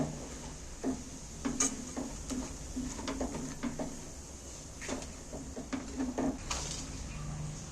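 Soft scraping and tapping of a spoon stirring rice coated with yogurt in a pan, irregular quiet knocks against the metal over a steady low hum, with no talking.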